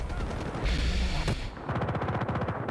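Gunfire in the Vietnam expansion of Battlefield: Bad Company 2, heard as a sharp crack in the middle against a steady backdrop of rapid, rhythmic distant shooting and battle noise.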